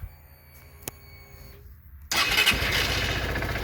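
A 2015 Honda CB125F motorcycle engine cranks after a quiet stretch of faint ticking, then catches and runs at a loud, steady idle close by.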